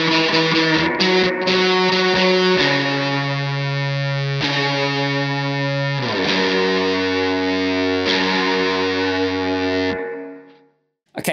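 Isolated electric guitar track, fuzz pedal feeding a spring reverb, from the intro of a song. Loud, heavily distorted held chords shift through several changes before ringing out and fading to silence.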